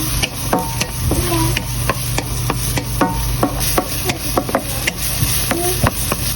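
Onion stirred and sautéed in a pan for tuna sardine cheesy carbonara, with steady frying sizzle and repeated scraping, clacking strokes of a utensil against the pan, close and continuous.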